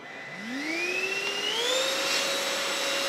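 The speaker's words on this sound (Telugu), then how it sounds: "ఏదైతే మ్యాక్స్ మోడ్లో రన్ చేస్తున్నా మోటార్ అనేది ఫుల్ ఆర్పిఎంలో రన్ అవుతుంది అనమాట" An AGARO Regency cordless stick vacuum cleaner runs in max mode, its motor spinning up with a rising whine that settles into a loud, steady high-pitched hum close by, with no talking.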